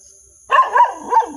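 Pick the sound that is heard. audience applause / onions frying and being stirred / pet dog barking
pet dog barking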